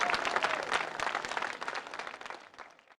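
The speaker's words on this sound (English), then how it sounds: "Give Joe Greer, the local whistler, a big round of applause." Audience applause for local whistler Joe Greer: a dense burst of many hands clapping at moderate distance, steady at first and then thinning and fading out toward the end.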